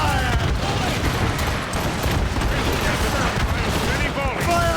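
Ship cannons fire a volley during a naval battle in Assassin's Creed Rogue, a continuous rolling clatter of blasts beneath shouting voices, loud and steady throughout.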